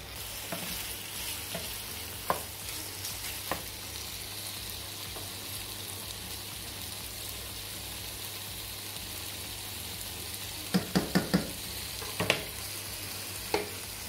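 Vegetables cooking gently in a pan with a little thyme, a soft continuous sizzle broken by occasional light clicks and a quick cluster of utensil taps near the end, no voices.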